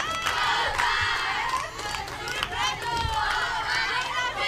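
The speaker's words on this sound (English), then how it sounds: "You can tell with how loud these dugouts are, the crowd, that they have been waiting all day to play" Softball crowd and players in the dugouts shouting and cheering loudly at a Senior League game, a dense, continuous roar of many voices throughout.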